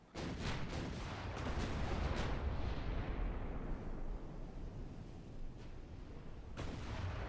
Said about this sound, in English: looks like our smaller guns are already firing on the transports